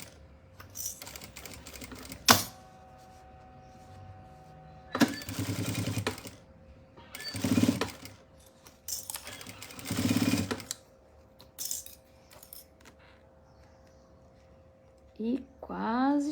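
A sewing machine stitches a wallet with a strap in bursts of a second or two, loud and close, separated by pauses; quieter handling noise and a little talk fill the gaps.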